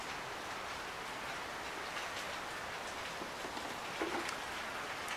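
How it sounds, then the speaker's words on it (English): Steady rain falls on a chilly day, a dense, even patter of drops with no talk over it. "it's a chilly day with this rain"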